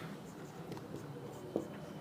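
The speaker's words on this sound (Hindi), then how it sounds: "अब हम लोग क्वेश्चन लिखेंगे एग्जाम्पल के तौर पे" Soft pen or marker scratching while writing out a physics question, a brief quiet stretch of strokes with a small tap, no speech.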